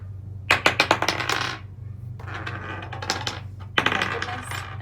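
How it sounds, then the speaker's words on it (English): Dice thrown during an addition lesson clatter in three quick bursts of sharp rattling taps, close and fairly loud, each bouncing and settling, over a low steady hum with no talking. "I'm going to throw the dice again."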